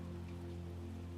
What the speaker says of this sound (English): The wind, the rain, the specks of distant thunder.